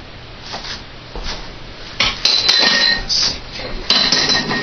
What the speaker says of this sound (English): Just going to mix that in.